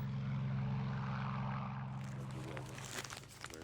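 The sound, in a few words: propeller plane flying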